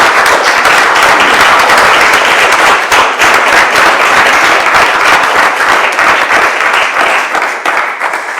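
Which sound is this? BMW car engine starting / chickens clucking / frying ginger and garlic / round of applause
round of applause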